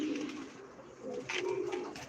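Pigeons coo softly in the background at a live pigeon auction, with low repeated throaty calls and a brief brighter chirp, all faint.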